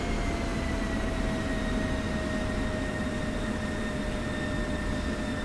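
A jet engine of an F-16I in a flight simulator game drones as a constant, even roar with steady tonal whine lines, uninterrupted and without speech.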